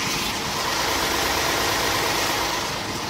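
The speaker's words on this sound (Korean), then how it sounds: "지금 영상에서 들리시는 것 같이 굉장히 정숙하고 규칙적인 엔진 사운드 들려주고 있고요" A steady, smooth engine idle of a Hyundai Grandeur HG sedan with the hood open, an even mechanical hum, heard up close and continuous with no voices.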